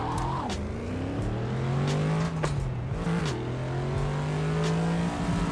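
A racing video game car spins its wheels and accelerates, its engine holding a steady rising whine with brief tire squeals, loud and continuous from start to finish, with no talking.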